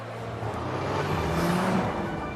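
An Audi car engine revs steadily, a low rumble with a rising whine, sustained and fairly close for a couple of seconds.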